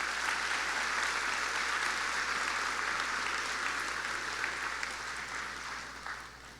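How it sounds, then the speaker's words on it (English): A seated audience at a school district professional development day gives a steady round of applause, with many hands clapping evenly at a moderate distance beneath a constant low hum before the applause tapers off at the end. "Give them a round of applause."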